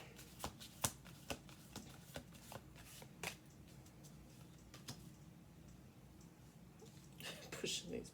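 Playing cards pushed together across a tabletop, heard as a string of close, soft clicks and taps, with a livelier flurry of card handling near the end.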